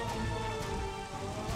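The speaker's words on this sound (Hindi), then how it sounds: "इतनी बारिश हो रही है" Heavy rain falls at night in a dense, continuous patter on surfaces, fairly close and steady, with no one talking.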